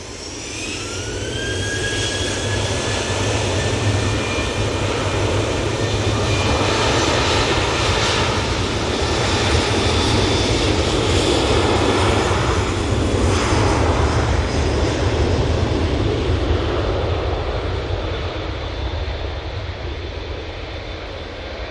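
A passenger airliner comes in to land at Manchester Airport, its jet engines roaring loudly and steadily throughout with a deep, rumbling low end and a whining tone that rises early on, with no talk over it.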